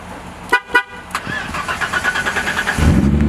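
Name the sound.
BMW E30 car engine starting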